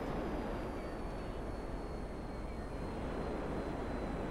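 Airplane flying in within the video game GTA 5, a steady continuous engine roar and broad rushing noise that holds evenly throughout without break.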